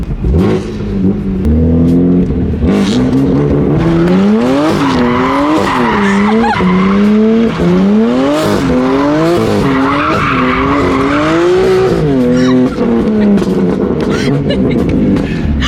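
A BMW M3 skids with loud, wavering tire squeals that rise and fall in repeated swoops over engine noise, while people talk and react nearby.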